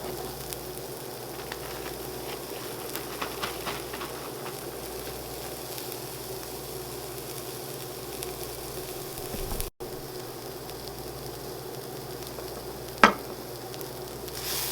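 Vegetables sizzling steadily in a hot pan while cooking, a constant close frying hiss with a sharp clink near the end.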